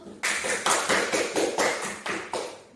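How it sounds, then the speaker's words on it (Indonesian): Classroom applause in a school physics lesson, sounding as a run of brisk, fairly rhythmic clapping bursts that starts abruptly and carries on for over two seconds at moderate loudness. "Kita beri aplaus dulu ya"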